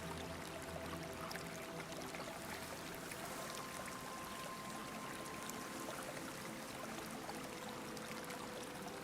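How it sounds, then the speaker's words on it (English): Stream of water flowing in a garden, a steady, soft broadband rush with faint trickling, constant and unbroken throughout. "You follow the sound of water across the garden and pass quietly through the gate."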